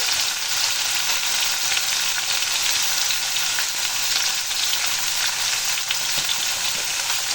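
Bottle gourd leaves frying in a pan for a vegetarian Bengali chorchori, a steady, close, full sizzle with faint stirring scrapes running the whole time, no voices.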